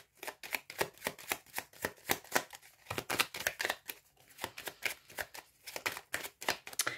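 Tarot cards being shuffled and dealt out, a rapid run of crisp riffling and slapping card sounds in uneven bursts across the whole stretch, close and fairly quiet with no talking.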